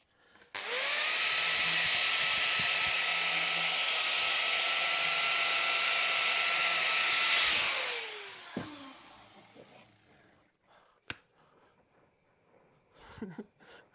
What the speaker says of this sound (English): just going to wire brush the end of that